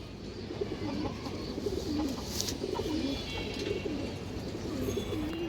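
A female silver pigeon with a large head coos in a steady series of low, rolling calls, close and moderately soft over a faint background hiss.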